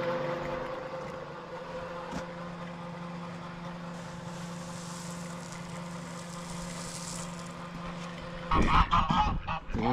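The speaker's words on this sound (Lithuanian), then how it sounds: "tiek antis, tiek žąsis." Geese and ducks wintering in a farmyard honk continuously at moderate distance, with a steady low engine-like hum underneath and a louder burst of flapping or calls near the end.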